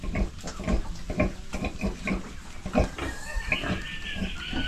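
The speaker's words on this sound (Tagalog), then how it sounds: "Ang lalaki nung biik natin" Piglets on a farm grunt and oink in a steady, busy jumble of short calls, close by and fairly loud, with no talking.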